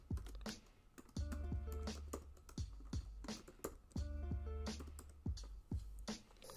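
A command being typed on a computer keyboard: a close, quiet series of crisp key clicks at an irregular pace, with short bursts and pauses between keystrokes and a soft background hum.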